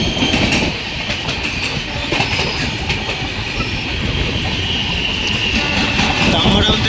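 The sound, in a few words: Santragachi Antyodaya Express train passing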